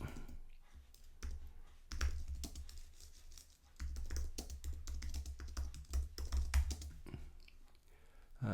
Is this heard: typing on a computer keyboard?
yes